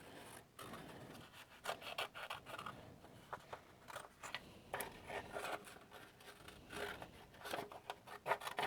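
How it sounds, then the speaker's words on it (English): Scissors snip and slide through a sheet of paper in a quiet room, a series of short crisp cuts with faint rustling between them, close and soft, with no voices. "So I'm just gonna start cutting it here, like around here."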